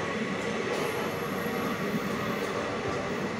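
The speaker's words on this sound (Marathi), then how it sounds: "ट्रेन आता चालू झाली." Steady low rumble and broadband roar from inside a train carriage as it begins to move, continuous and fairly loud throughout with no talking.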